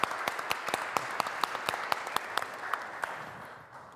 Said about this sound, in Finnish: Annetaan vielä lämpimät aplodit kaikille panelisteille.